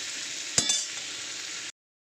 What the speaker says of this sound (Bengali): এর মধ্যে এবার ঝিঙেগুলো কেটে নিয়েছি, যে ঝিঙেগুলো একটু আলুর সঙ্গে দিয়ে নাড়াচাড়া করে নেব।